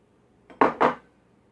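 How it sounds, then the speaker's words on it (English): Cucumbers dropped into a glass jar for fermented pickles: a soft knock and then two quick clinking thuds close by, with no talking. "You just start by adding your cucumbers to the jar."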